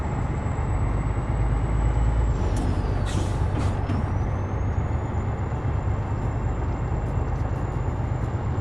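Freightliner FLB semi truck in American Truck Simulator running empty, a loud, steady diesel engine drone with a high whine that dips and recovers, a brief air-brake hiss midway, and a few faint clicks, no voices.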